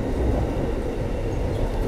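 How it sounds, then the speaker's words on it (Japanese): Express train on an intercontinental cross-border line running fast alongside the Hudson River, a steady dense rumble of wheels and carriage noise heard from inside, continuous with no voices. "でしばらく列車はハドソン川とともに並行しながら走るんですけども"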